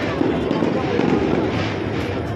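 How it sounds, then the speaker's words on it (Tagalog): New Year fireworks burst continuously over Manila, a dense, loud wash of crackling explosions and rumbling booms with no gaps. "Ganda-ganda ng fireworks, kuya."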